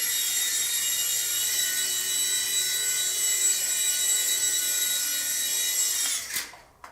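A small World Tech Toys Hornet 2-channel infrared RC helicopter hovers on a low battery, its tiny rotor and motor giving a steady, close, high-pitched whine that drops away abruptly near the end.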